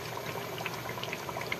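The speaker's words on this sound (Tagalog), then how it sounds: "Pakuluan ko ng todo na sa mantika hanggang mawala ang tubig sa bagoong" Bagoong shrimp paste boiling hard in oil gives a steady, dense crackle and bubbling with scattered pops, close and continuous throughout.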